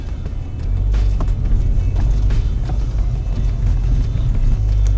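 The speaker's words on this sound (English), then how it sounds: "Brakes are really rusty, so they're grinding quite a bit. But we are travelling under our own power" A crashed Ford Fiesta ST with no front end drives under its own power with rusty brakes, giving a heavy low rumble and road noise with scattered scraping, grinding bursts over several seconds, close and loud.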